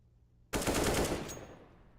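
Pistol fire from a Glock in the shooter game CS:GO, a sudden loud burst of rapid shots that rings on and slowly fades over about a second and a half.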